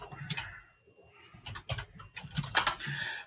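Fingers typing on a computer keyboard, quick close clusters of light clicking keystrokes with brief pauses between bursts, fairly quiet.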